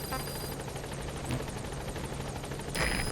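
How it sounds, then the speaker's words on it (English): A support helicopter arrives in Metal Gear Solid 5, its rotor thudding in a fast steady chop beneath a constant engine whine, fairly faint and unbroken. "Support helicopter has arrived."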